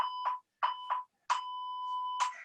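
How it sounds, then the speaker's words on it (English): Workout interval timer going off during an exercise class, sounding a series of electronic beeps in short bursts, with longer tones near the end, fairly close and clear with no talk over it. "The timer's gonna go off."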